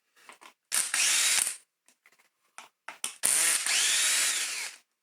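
A vacuum cleaner's filter housing comes apart with a motorised whirr from two separate bursts of driving out cross-head screws. A few small clicks and taps of handling sit between the bursts, and the sound is close and fairly loud.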